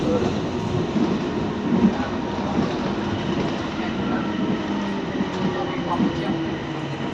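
Steady rumbling hum of a Bangkok Gold Line electric train running, with faint rail clatter throughout and a low murmur of voices in the background.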